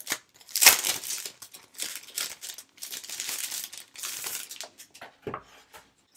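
A crinkly plastic packet of Happy Planner half-sheet filler paper is torn and opened up close, with irregular bursts of crackling, rustling and crumpling, one sharp rip near the start and quieter handling between.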